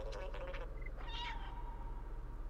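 A cat meows in the game Stray, a couple of short close mews over a low steady background hum, with no talk.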